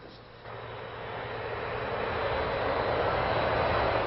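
Argentine Navy and Air Force attack jets fly over during the 1982 Malvinas war as a broad, rising roar that builds steadily and stays loud.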